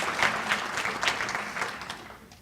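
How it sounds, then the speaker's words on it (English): An audience at a State of the City lunch event claps, a burst of many hands that is loud at first and then gradually thins and fades out, with no speech over it. "Let's give them a big round of applause."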